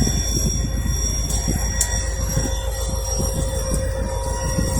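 A CSX coal train rolls past a grade crossing at Concord Turnpike in Lynchburg, Virginia, its wheels squealing in high sustained tones over a steady low rumble of cars, close and continuous throughout.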